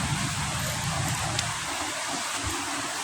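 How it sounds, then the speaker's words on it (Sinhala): Steady heavy rain pours down in a dense, unbroken hiss, with no voices. "දැන් නම් එන්නම වැස්ස ගොඩක් වැඩි වෙනවා"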